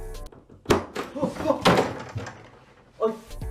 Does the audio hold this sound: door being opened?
yes